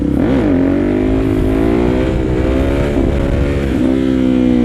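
A motorcycle engine revs hard and loud up close as the rider pops a wheelie, the pitch swelling and dipping through several throttle blips in a continuous roar.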